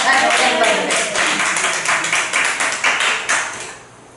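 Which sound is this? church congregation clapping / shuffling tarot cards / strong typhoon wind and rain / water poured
church congregation clapping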